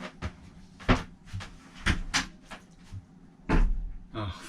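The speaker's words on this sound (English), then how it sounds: "That's the sound the bathroom door makes when it opens." A bathroom door on a boat opening, giving a series of sharp knocks and creaky clunks in an irregular rhythm, loud and close, with one longer scraping burst near the end.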